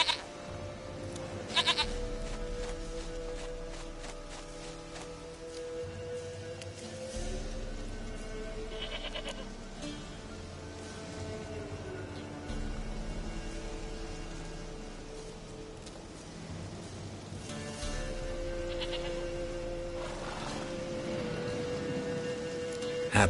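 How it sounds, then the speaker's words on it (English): A goat in The Witcher video game bleats a few times over a steady bed of game music and ambient hiss, with no talk. "Goat of mine, dearest, sweetest goat."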